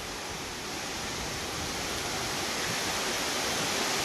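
Akaya Gangai waterfall, reached down a long flight of steps, gives a steady dense rush of falling water that grows slightly louder and fills the scene without pause, with no voices.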